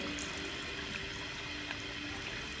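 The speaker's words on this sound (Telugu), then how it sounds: "కొంచెం ఉడికినాక మనకు తగినంత వాటర్ పోసుకోవాలి." Water poured into a simmering chicken curry in the pot, a steady, soft, continuous splashing pour with no speech.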